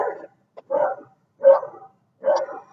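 A dog gives four separate barks at a steady pace, each short and close, with brief silences between them.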